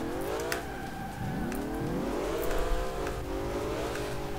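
A car engine in the racing game Alarm für Cobra 11 – Das Syndikat revs up and down repeatedly as gears shift, steady and moderately loud with light tire noise, no talk.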